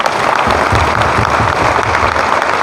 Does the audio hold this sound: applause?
yes